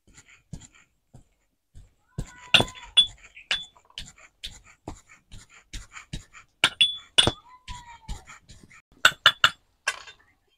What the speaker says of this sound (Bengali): আদা, রসুন আর কাঁচা লঙ্কা একসঙ্গে আমি থেঁতো করে নেব।